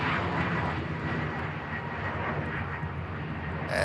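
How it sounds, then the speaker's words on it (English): An Aer Lingus UK Airbus A330 with General Electric CF6 engines lines up for departure at Manchester Airport, its jet engines producing a loud, continuous broadband roar that holds steady throughout. "now the one we've been waiting for, CF6 power plants on the Aer Lingus UK 330 heading out to New York"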